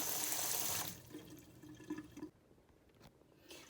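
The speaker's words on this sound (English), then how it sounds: "I'm going to rinse it one more time just to make sure that everything is off" Berries are rinsed under a running kitchen tap: a loud rush of water stops after about a second, then soft splashes and drips follow before the flow briefly returns.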